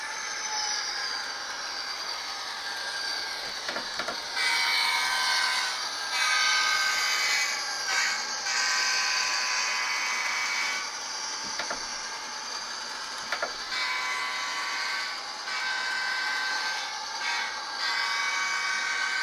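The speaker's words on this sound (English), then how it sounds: "I really like the sound of that diesel." A Bachmann N scale model diesel locomotive with DCC hums and whines steadily along the track, with faint clicks of wheels over rail joints and no voices.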